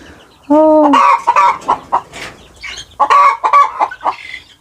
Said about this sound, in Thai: ไก่ครับ